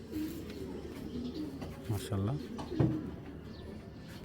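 A pair of Iranian racing pigeons cooing up close with soft, low, throaty calls repeating under a voice talking.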